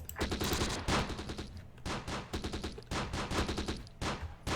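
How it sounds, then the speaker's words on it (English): Machine gun fire in the World War II tactics game Close Combat: The Bloody First, set in Italy, loud repeated bursts of rapid automatic fire separated by short pauses. "our machine gun is still doing a beautiful job here at keeping the enemy pinned down"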